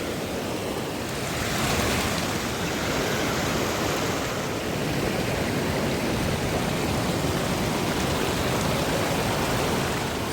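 A mountain stream on the way to Mt Stanford flows nearby in a loud, unbroken rush of water, steady broadband noise with no voices.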